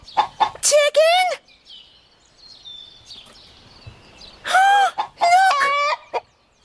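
A chicken clucks and squawks in short bursts, with a quiet pause between two clusters of calls.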